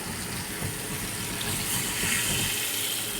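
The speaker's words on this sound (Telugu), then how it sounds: "ఇప్పుడు పులుసు పోసుకుంటున్నాం" Tamarind juice pours into a pot of fish curry, a steady, close liquid splash and trickle running continuously without a break.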